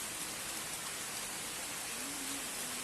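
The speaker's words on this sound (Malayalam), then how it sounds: "മഴ ചെറുതായിട്ട് പെയ്യാൻ തുടങ്ങിയിട്ടുണ്ട് കേട്ടോ." Light rain begins falling at a night campsite, a soft, even patter of drops with no voices.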